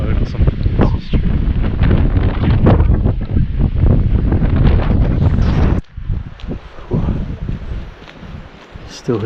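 Wind gusting hard through trees at an ancient Bronze Age site, a loud buffeting roar that suddenly drops off after about six seconds into quieter, patchier gusts, with a voice briefly audible.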